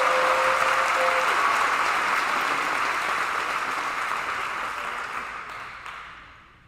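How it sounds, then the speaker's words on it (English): Graduation ceremony audience breaks into sustained applause, a broad, even roar of clapping that gradually fades out over several seconds. "A round of applause"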